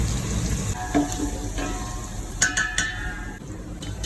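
Onion, garlic and chili frying in a pot, a steady low sizzle under scattered stirring clinks and scrapes, fairly close, with no voices.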